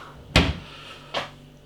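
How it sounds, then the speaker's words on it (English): A door swings shut with a sharp, close thud, followed moments later by a softer second knock as it settles, in a quiet room. "let me shut that door."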